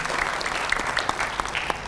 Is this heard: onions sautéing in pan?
no